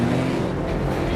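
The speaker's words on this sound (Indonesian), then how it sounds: "Di sana dia bertemu Dr. May yang mengendarai mobilnya. Lantas mereka pun mengejar Owen" A car engine roars loud and close during a chase scene in the action film Hidden Strike, a continuous dense rumble lasting about a second.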